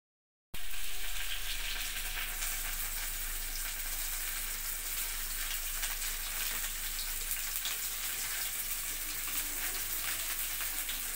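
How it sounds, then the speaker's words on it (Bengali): Fish frying in a lot of hot oil in a pan gives a loud, steady, close sizzle that starts suddenly and crackles on evenly throughout, with no talking. "তেল দিয়ে দিয়েছি, এত তেল দিয়ে দিয়েছি, মাছগুলো এবার চটপট করে ভেজে নেব"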